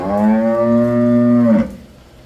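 A Jersey cow from Punjab at a farm cattle sale lets out one long, loud, close moo lasting about a second and a half, then falls quiet.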